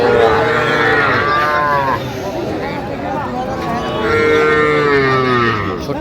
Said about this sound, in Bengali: ছোট্ট ছোট্ট ষাঁড় বাচ্চা।